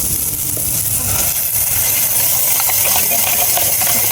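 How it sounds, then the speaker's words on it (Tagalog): Corned beef sizzling in a pan of sautéed onion and garlic at a camping site, a loud, dense steady hiss filling the whole stretch with a faint voice underneath. "lalagyan na natin yung corned beef."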